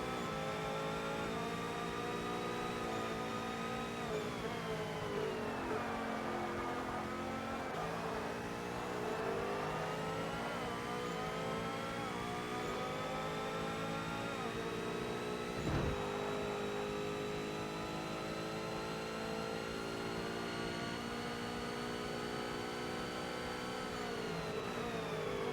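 Car engine with a loud, rising and falling transmission whine in Forza Motorsport on Xbox, a steady continuous drone of stacked harmonics that sweeps down and back up as gears change, with no talking.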